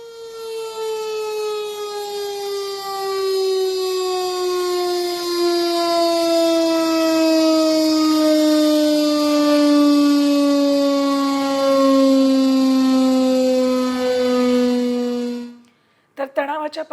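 A civil defense air raid siren wails in one long sustained tone that slowly falls in pitch, loud and steady, then cuts off abruptly near the end.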